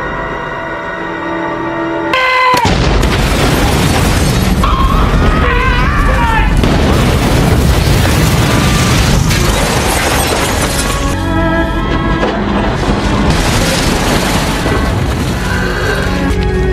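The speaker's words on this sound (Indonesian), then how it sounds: "Akibat ledakan yang sangat dahsyat" A huge explosion destroys a tow boat, setting off a sudden deafening boom followed by sustained roaring, crashing debris and chaotic noise, with voices shouting over it.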